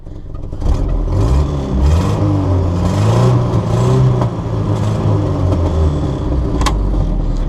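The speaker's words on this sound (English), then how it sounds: "seems to be idling all right." An engine idles roughly after being choked, with a steady, loud rumble and uneven clattering that holds throughout without revving up.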